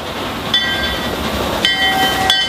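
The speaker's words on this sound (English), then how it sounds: "this touristy type steam train runs through the hills" The Puffing Billy tourist steam train rumbles steadily along the track through the hills nearby, with a continuous grinding roar and a few high metallic squeals from the wheels.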